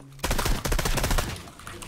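Rapid automatic gunfire from a video game weapon bursts in loudly after a brief quiet start, firing dense repeated shots that taper slightly toward the end.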